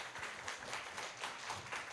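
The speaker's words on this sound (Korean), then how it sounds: "큰 박수로 맞이해 주시기 바랍니다" Conference audience applauding to welcome a professor to the stage, a steady wash of many hands clapping at moderate level without talk.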